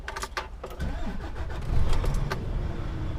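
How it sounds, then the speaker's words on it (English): A DAF XF 105 truck's diesel engine is started, with a cranking burst and then a low, steady rumble that swells and settles into a loud idle close by. "So we'll just turn the engine on and I'll put it in drive"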